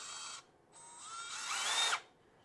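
Milwaukee M12 subcompact brushless cordless drill with variable speed trigger runs briefly, cuts off, then spins up again with rising pitch before stopping, close and clear with no talk.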